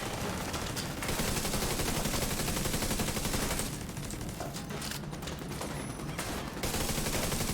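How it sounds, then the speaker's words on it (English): Automated turret fire in the video game Division 2, aimed at a healing station: dense rapid gunfire bursts with brief pauses, loud and continuous amid game noise. "Maybe I'll have my turret start shooting that healing station."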